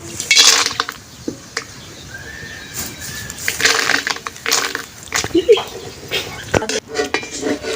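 Peanuts fry in a pan and are stirred with a metal utensil, giving irregular scraping and clinking taps at close range, with a voice now and then.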